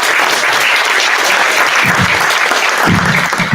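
Warm, steady applause from a crowd at a startup demo night, dense clapping throughout the few seconds, loud and close with no pause.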